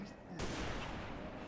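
A sniper rifle in Halo: Reach fires one sharp, loud shot that cuts in abruptly and leaves a dense, lingering blast tail.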